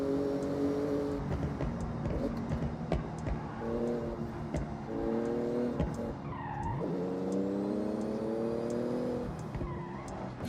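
Porsche engine in the Forza Horizon racing game, revving hard and accelerating through a speed zone, with rising and falling gear pulls, tyre skids and continuous loud engine roar throughout.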